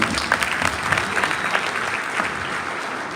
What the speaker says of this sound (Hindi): जोरदार तालियां मुझे बजाइए